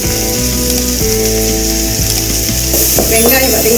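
Tomatoes sizzling as they fry with softened onions in a pan for paneer butter masala, a steady loud crackle throughout with occasional stirring scrapes and clinks, no talk.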